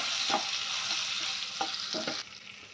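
Tomato paste hisses into hot oil in a pan, a loud, steady broadband sizzle with a few soft spoon scrapes, easing slightly toward the end.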